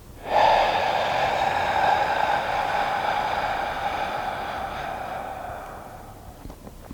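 A long, deep exhalation during a guided relaxation breathing exercise: a close, steady breathy rush that slowly fades out over several seconds.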